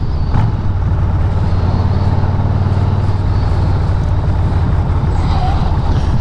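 Harley-Davidson FXDR custom motorcycle riding with the engine blipped on a downshift, a steady low exhaust drone under heavy wind rush and a small pop near the end.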